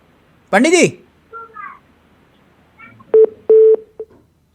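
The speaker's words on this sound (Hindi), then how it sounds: "पंडित जी फोन डिस्कनेक्ट हो गया, पंडित जी का फोन डिस्कनेक्ट।" Phone-call disconnect tones during a Hindi television debate: a short burst of voice and a few faint blips, then three clear, steady beeps of even pitch close together near the end.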